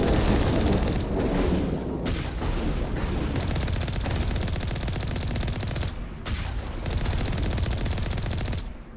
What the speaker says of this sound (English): Don't mind me just being the worst shot in the universe with the tank cannon